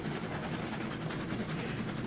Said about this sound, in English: we'll see how much this car can pull, or this train can pull